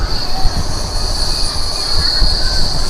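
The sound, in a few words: Tirupati–Puducherry MEMU Express train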